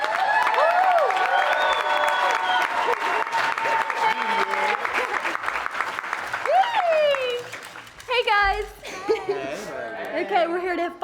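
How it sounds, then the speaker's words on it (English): A conference crowd at an Oxford House convention breaks into loud applause and cheering for a longtime cheerleader, with hoots and chatter mixed in before a voice takes over near the end. "Let's have a round of applause for Brandy frickin' B."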